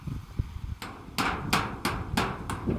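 A hammer drives nails into a bathroom door under repair, with about six sharp, evenly spaced strikes close by following a few softer knocks at the start.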